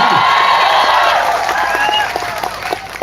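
Audience applause and crowd cheering at a human rights event about Manipur, a loud dense burst of clapping and whoops that slowly fades over a few seconds.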